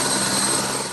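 A helicopter carrying lungs and pancreas for transplant gives off a loud, steady engine and rotor roar, heard up close without a break.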